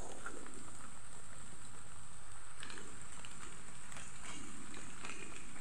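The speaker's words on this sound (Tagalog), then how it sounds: "Ayan, oh, umulan na siya." Rain falls steadily on a corn farm, a soft, continuous wash of patter close by with faint scattered drops over a low background hiss.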